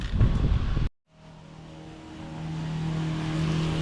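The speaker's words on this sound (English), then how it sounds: "I guess I'll take this truck here, I'll back it up to the end there." A truck's engine starts up after a brief cutout and idles, then builds into a steady rising drone as it is driven and backed up, close by and alone without talk.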